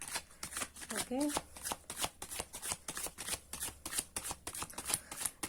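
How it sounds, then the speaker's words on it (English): A Moonology Oracle deck being shuffled by hand, with a rapid run of crisp card riffles and flicks at close range, quiet, and a brief spoken word partway through. "Here I am giving the final shuffle,"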